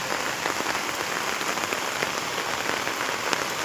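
Steady rain patters on a hard surface, a dense even hiss of drops close by with scattered louder taps and no other sounds.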